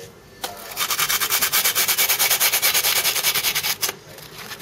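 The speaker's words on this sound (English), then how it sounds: "Once again, sanding around the edge." Close, rapid back-and-forth sanding strokes around the edge of scooter deck grip tape in a steady rhythm, rasping loudly for several seconds before stopping.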